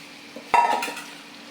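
Fried eel fish drops into a hot curry with a sudden sizzle that crackles briefly and fades within about a second.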